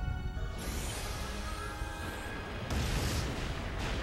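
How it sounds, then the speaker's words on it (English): Heavy booming explosions and rumbling blasts from the Shadow the Hedgehog video game, layered over game music with a louder burst near the middle; dense, continuous and up close. "And explosions."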